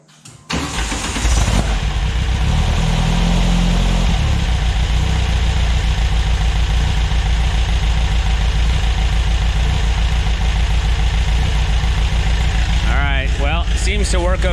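A VW air-cooled stroker engine with a newly fitted 55 amp alternator cranks briefly, catches and settles into a loud, steady idle close by, with a short whine near the end.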